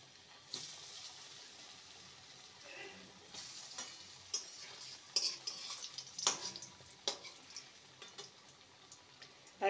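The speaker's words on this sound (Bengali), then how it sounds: "এবার পাকোয়ান পিঠেগুলোকে ভেজে নেব" Palm pakon pithe frying in oil in a wok, a soft steady sizzle broken by occasional clinks and scrapes of a utensil against the pan, fairly faint and close, with no one talking.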